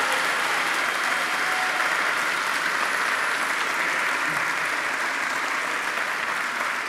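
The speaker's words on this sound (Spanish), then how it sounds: "Fuerte el aplauso" Sustained, dense audience applause fills the hall at the opening ceremony of the 30th Valdivia International Film Festival (FICValdivia 2023), a steady roar of many hands clapping with no break.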